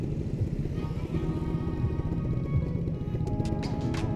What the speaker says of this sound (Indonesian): Khas banget sih suara Ninja ini.